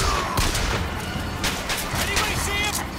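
Pistol shots in Bioshock Infinite, a few sharp game gunfire cracks scattered through a dense, noisy mix of combat effects and background sound.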